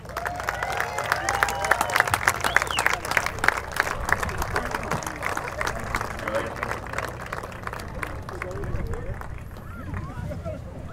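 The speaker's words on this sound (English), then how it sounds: "introduce your officiant of today with a warm welcome and a big round of applause, Andrew the Corsi Osborne." Steady applause from a crowd at a beach vow renewal ceremony in Aruba, dense clapping holding at an even level throughout, with faint voices mixed in.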